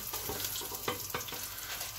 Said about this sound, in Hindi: इसमें हम डाल देंगे ये प्याज